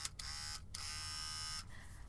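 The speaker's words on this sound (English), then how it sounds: "I have a trimmer because I just want to have my facial hair look how I want it to look" An electric facial hair trimmer buzzes close by, a steady high-pitched whine that cuts out briefly twice, then drops to a lower hum near the end, with no voice over it.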